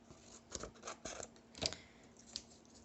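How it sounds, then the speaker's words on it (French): Scissors snip the corners of a paper album pocket to bevel them, several short crisp cuts and rustles spaced irregularly, close and quiet against a near-silent room. "Je vais venir ici biseauter mes angles."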